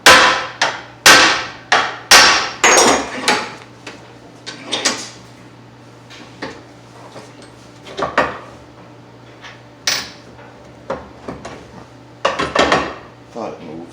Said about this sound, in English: a couple hits with the hammer on the ear here.